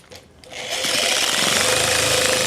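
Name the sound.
Tango 360 power sander sanding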